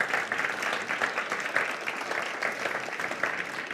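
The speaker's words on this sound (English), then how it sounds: "let's give a big round of applause for our rapporteurs" A conference audience applauds its rapporteurs with a steady, even wash of clapping from many hands, moderately loud and slightly distant, with no talking over it.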